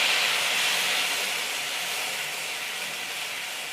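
Blended tomato puree hits hot oil with cumin, giving a loud, bright, steady hiss of sizzling that slowly eases over a few seconds.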